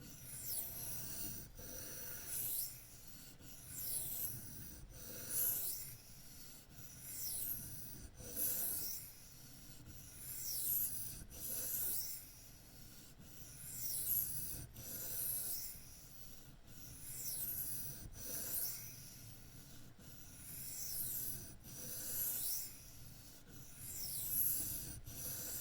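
A Case Sod Buster Jr knife in chrome vanadium steel is sharpened freehand on a 600 grit stone, with slow, even scraping strokes repeating in a steady rhythm, faint and close, with no voices.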